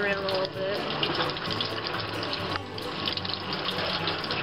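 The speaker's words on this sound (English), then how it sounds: "we're going to use cold water, as cold as you can get it on the tap" Cold water runs from a tap over homemade raw-milk butter to rinse out the buttermilk, a close, continuous splashing gush with shifts as the butter is moved under the stream.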